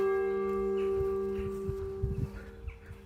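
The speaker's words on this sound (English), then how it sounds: "It's even got a chiming clock on it as well" A church clock chimes with a steady, ringing bell tone that sustains throughout, fairly loud and resonant, with faint footsteps or scuffing beneath it outdoors in the village of Hodnet.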